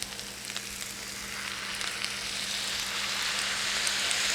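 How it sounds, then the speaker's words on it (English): Food sizzles steadily in a hot pan after sauce is added, a loud, even hiss that builds slightly over a few seconds with no talk. "listen to that sizzle"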